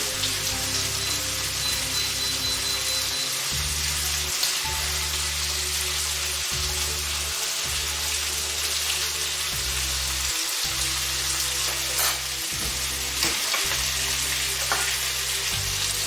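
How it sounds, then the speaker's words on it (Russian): Fried vegetables, carrots among them, hiss and crackle in a pan for chicken noodle soup, a dense continuous sizzle close up with occasional stirring and a low background hum, no voices. "Обжариваю около 2 минут."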